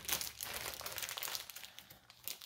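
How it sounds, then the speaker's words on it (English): Plastic packaging crinkles and rustles as a raw brisket is pulled out, a close, continuous crumpling sound with no talking. "Take it out of the package carefully."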